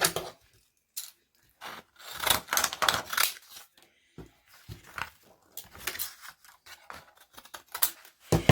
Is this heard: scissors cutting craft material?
yes